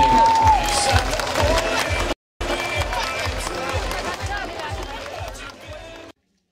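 An outdoor crowd at a festive open-air concert on a town square applauds and cheers, a dense wash of clapping with a voice and a sliding tone at the start, cut briefly by a gap.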